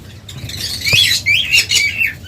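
Lovebirds kept for sale give shrill, chattering squawks at close range, several rapid bursts with a soft thump near the start.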